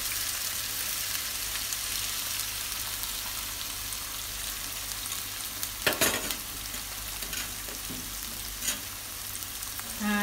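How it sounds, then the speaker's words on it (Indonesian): Beaten eggs scramble in a frying pan, a continuous close sizzle broken by a few scraping stirs of a spatula, with no voices over it. "Nah, diurak-arik telurnya di sini."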